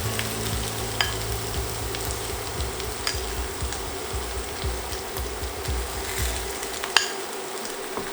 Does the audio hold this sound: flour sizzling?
yes